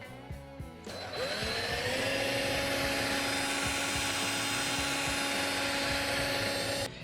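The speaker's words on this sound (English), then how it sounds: "And then I will tap the cap with my 5/16 drill bit" A drill spins up with a high whine while tapping a thread into a thick aluminum gas tank cap with a 5/16 bit, holding a steady sustained tone for about six seconds before cutting off.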